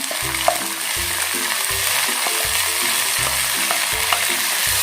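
Chopped ripe tomato sautéing in a pan for aavaram poo soup, a steady close sizzle with a spatula stirring and scraping in a regular rhythm throughout.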